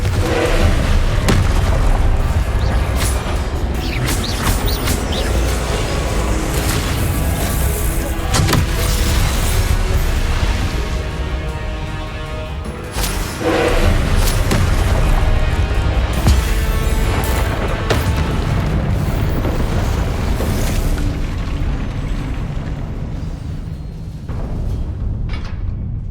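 Confringo spells burst in a Hogwarts Legacy fight, a dense and continuous roar of booming blasts and crackling impacts that keeps up with hardly a break until it fades near the end.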